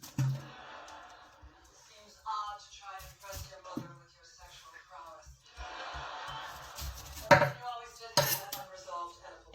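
A knife trims the rough edges off a pineapple for peach pineapple jam, making scattered light taps, scrapes and clicks against a hard surface while a person talks over the work.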